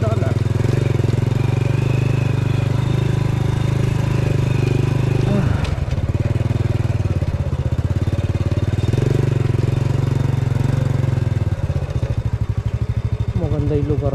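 A motorcycle engine runs continuously on a slippery road, a loud, steady low rumble with a brief rattling shake midway and light mechanical whine on top, while someone talks over it.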